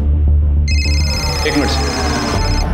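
A telephone rings with a steady electronic tone, loud and close, sounding over a low background hum before a detective in a Hindi crime drama answers the call.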